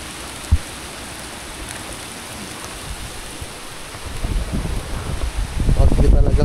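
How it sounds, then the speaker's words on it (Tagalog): Heavy rain and gusting wind of a typhoon roar steadily outside a home, building louder toward the end, with a single sharp knock early on. "Bagyo talagang malala to."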